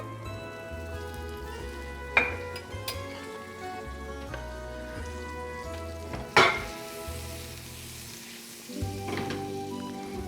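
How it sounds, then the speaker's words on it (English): Butter melts and sizzles in a hot pan before salmon goes on to grill, a steady close crackling fry with a couple of sharp clinks of utensils against the pan. "I'll start putting some butter."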